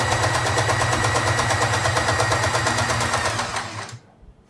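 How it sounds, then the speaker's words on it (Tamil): A sewing machine runs a lock stitch along fabric for a churidar neck, a loud, fast, even mechanical chatter that holds steady for about four seconds before it stops abruptly. "இப்போ லாக் ஸ்டிச் போட்டு நம்ம தொடங்கிப்போம்."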